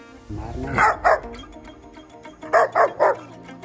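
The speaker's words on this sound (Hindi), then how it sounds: "एक पुराने बरगद के पेड़ के पास जाकर जोर जोर से भौंकने लगा" A dog barks loudly near an old banyan tree in two bursts, first a pair of sharp barks and then three in quick succession, with low background noise between.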